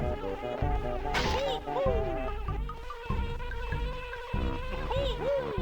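Game bees swarm near a beehive in Banjo-Kazooie, their high whining buzz swooping in and out over the game's music and sound effects.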